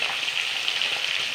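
Fish, later seasoned with salt and turmeric, frying in a pan, a steady close crackling sizzle with no pauses and no talk.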